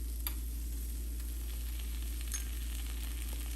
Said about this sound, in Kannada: ಸ್ವಲ್ಪ ಎಣ್ಣೆ ಹಾಕೋಣ.